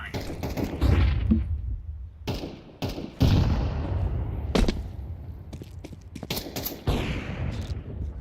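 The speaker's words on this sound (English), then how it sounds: "Throwing flashbang." A flashbang grenade goes off in Counter-Strike amid a burst of loud gunfire, with sharp repeated shots and thumps crowding the whole stretch, no voices.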